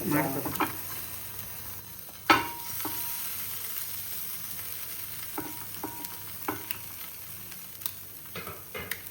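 A vegetable sandwich toasts in ghee on a pan with a soft, steady sizzle. One sharp clatter sounds early on, then scattered light taps and scrapes of the spatula follow.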